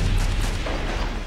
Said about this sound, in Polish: No słyszę strzały.